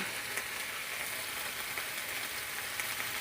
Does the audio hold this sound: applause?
no